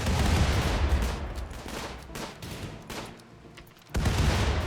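Colonists in Rimworld firing on turrets in a grasslands setting, a sustained volley of overlapping gunshots that thins out briefly near the end before a loud burst resumes, with no talk.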